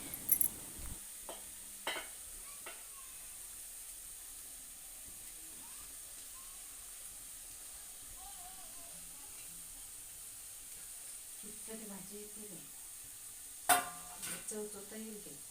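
Jackfruit sabji being stirred into onions in hot oil in a home kitchen in Mahabaleshwar, giving a faint, steady sizzle with scattered scraping stir strokes and clatter, louder bursts near the start and end.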